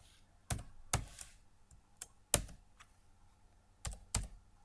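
Typing on a computer keyboard, six or seven sharp, separate key presses at an uneven, unhurried pace, close and isolated against a quiet background.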